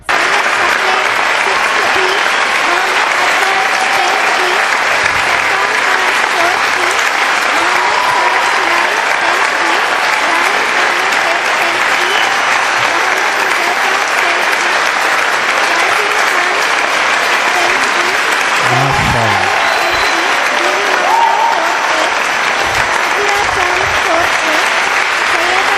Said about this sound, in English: Let's keep clapping for the winners of Pratibha Karanji